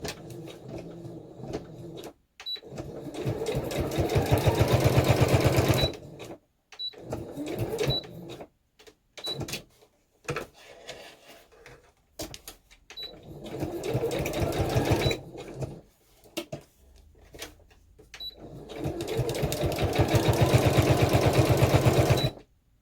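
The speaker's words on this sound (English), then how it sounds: "I'm just going to literally just stitch this on." A sewing machine stitches fabric in several long, steady runs of fast rhythmic whirring, each separated by brief pauses and quiet handling clicks, loud and close throughout.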